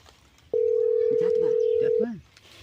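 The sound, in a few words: telephone ringing tone after dialing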